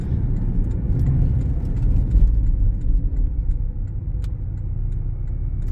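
Steady, moderately loud engine and road drone inside a Porsche 718 Cayman with 44,221 miles on a test drive, a low continuous hum without rises or breaks.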